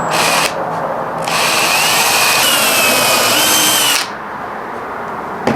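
A power drill whirs loudly in bursts while pre-drilling a screw hole in a plant stand: a short run, a brief pause, then a longer sustained drilling before it stops, close up.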